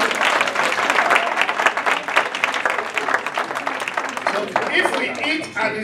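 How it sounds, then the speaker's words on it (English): Lively clapping from a group at a golden jubilee celebration, uneven rhythm with individual claps standing out, rising and falling in waves with some crowd noise underneath. "let's clap for Catherine"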